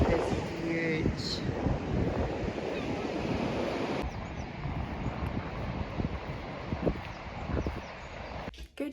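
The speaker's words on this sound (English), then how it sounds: "The waves are really big here." Big ocean waves on Spittal Beach in Northumberland, a steady broad surf roar with wind buffeting the microphone, heard alongside occasional talk.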